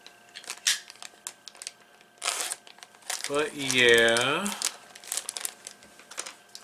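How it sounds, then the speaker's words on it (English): Scissors snipping and crinkling a plastic bag while cutting out pieces from a Loot Crate box, with bursts of crinkling and a voice speaking briefly in the middle. "I'm gonna cut these pieces out of the plastic bag"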